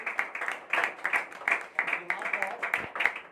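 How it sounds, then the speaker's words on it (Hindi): Audience applause welcoming an award recipient at a ceremony, a quiet, uneven spatter of hand claps in loose bursts from a modest crowd, fairly distant. "तो एक बार तालियों से स्वागत हो"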